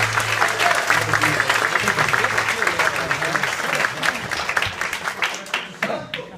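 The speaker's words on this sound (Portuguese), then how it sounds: "Vamos aplaudir ao Senhor pela vida que se segue de Deus." Church congregation applauding together during a worship service, loud sustained clapping from a crowd that gradually thins and fades toward the end, with a voice briefly heard over it.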